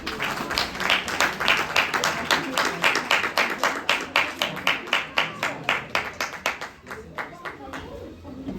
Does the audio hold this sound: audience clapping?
yes